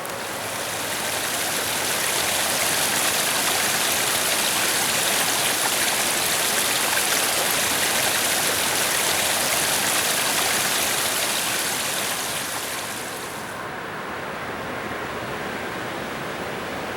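A swollen river at Harpers Ferry in winter rushing steadily, a dense, loud, continuous roar with no voices, easing slightly toward the end.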